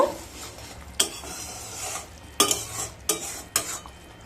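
Eggplant coated in kasundi and raw mustard oil sizzles quietly in a pan while a metal spoon stirs it, giving four or five sharp scraping clinks against the pan over a low frying hiss.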